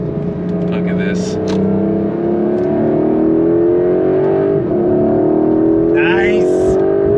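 A 2025 Porsche 911 Carrera GTS accelerates hard, its engine note climbing steadily and loud and close, with a few short voice bursts over the top.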